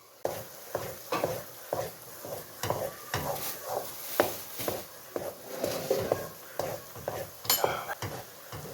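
Spoon stirring besan halwa in a pan, a series of regular scraping strokes roughly every half second over a soft sizzle, close and fairly quiet with no talk.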